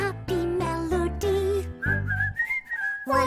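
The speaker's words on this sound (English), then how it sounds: "whistling a happy melody" Someone whistles a bouncy, cheerful tune in a children's counting cartoon over a light musical backing, notes sliding up and holding before the accompaniment returns.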